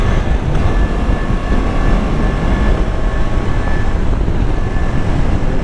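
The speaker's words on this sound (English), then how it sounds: "I'm on the first gear, switch to the second gear. Now you see how it pulls." A motorcycle shifted into second gear pulls hard, its engine a loud, steady roar mixed with heavy rushing wind, with no talk over it.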